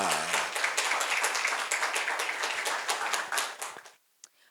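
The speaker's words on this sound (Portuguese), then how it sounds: "Recebamos, então, nossa convidada com a calorosa salva de palmas" Loud, dense applause from a conference audience fills the room steadily, then cuts off abruptly, leaving a single faint clap afterward.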